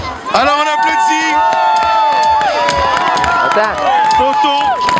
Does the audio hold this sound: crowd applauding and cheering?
yes